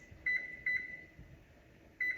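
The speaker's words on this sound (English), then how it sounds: "I'm gonna set my timer on my oven for 15 minutes" An oven timer beeps as it is set, giving three short, faint electronic beeps at uneven intervals over a quiet background.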